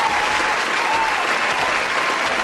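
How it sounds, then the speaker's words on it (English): Dense, steady applause from a crowd fills the space, continuous and loud throughout. "let me get you my applause for tonight"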